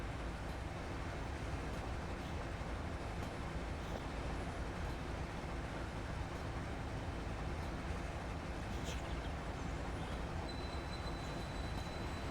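A faint, continuous rumble of trains rolling along with steady track noise in the video game Train Sim Pro USA, several trains running close behind each other, no voices.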